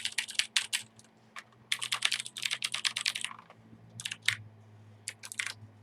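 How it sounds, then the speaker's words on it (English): Fingers type on an IBM Model M clicky buckling-spring keyboard, sharp clacky keystrokes in rapid bursts broken by short pauses, close up over a faint low hum. "it's a Model M, it's a clicky keyboard."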